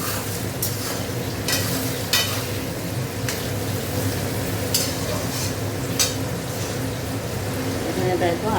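Tomatoes go into a chicken curry and sizzle steadily in the pan, with repeated sharp scrapes and clacks of a spoon stirring against the metal and someone talking over the cooking.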